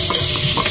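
Chicken frying in a pan is stirred over a steady, loud sizzle, with a few short scraping strokes in a brief burst.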